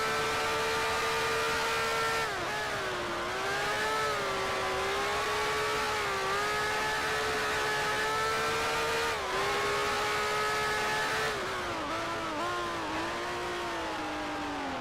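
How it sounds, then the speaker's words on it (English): A 1965-era Climax Formula 1 engine in the Grand Prix Legends racing game at Suzuka wails steadily from behind, its high harmonic tone rising and dipping with throttle and gear changes, alone and fairly loud throughout. "The climax engine getting a little bit louder in my mirrors."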